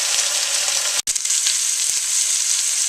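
A pot roast browns in a hot pan, giving a loud, steady sizzle and crackle that cuts out for an instant as the meat is shifted, then resumes.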